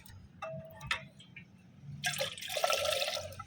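Thick rice starch water, drained from boiling rice, is poured close by into a container, a few light drips first and then a steady splashing pour that fills the last second and a half.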